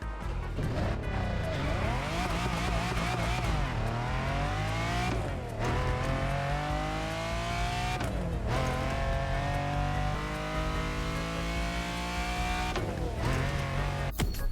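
Stock Lamborghini Countach engine in the Forza Motorsport racing game, loud and close, revving up through several gears with rising pitch sweeps and brief dips at each shift, continuous for the whole stretch with no talk.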